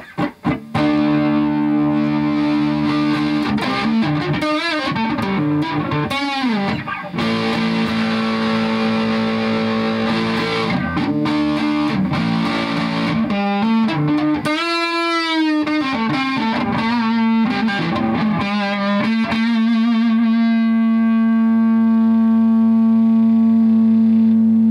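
An electric guitar plays through an Orange Rockerverb 50 amp on its dirty channel with high gain: loud, distorted sustained notes and bends that end on a long ringing held note.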